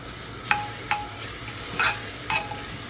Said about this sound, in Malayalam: നന്നായിട്ട് ഇളക്കിയിട്ട്